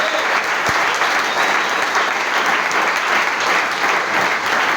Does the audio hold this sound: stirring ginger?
no